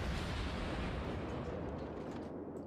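Heavy battleship main-gun salvos rumble through a naval battle in World of Warships, a dense, continuous low roar of booming fire and rolling explosions with no voices.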